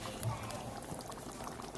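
Water is poured into a chicken and peas curry cooking on low heat, making a soft, steady liquid splash and bubbling for about two seconds, faint and close.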